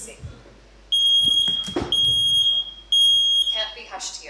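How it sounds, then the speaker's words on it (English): A smoke alarm in a smart home demo sounds a loud, steady high-pitched tone in three long bursts, with a synthesized voice announcing an emergency between them. "There's smoke in the master bedroom. Emergency. This alarm can't be hushed."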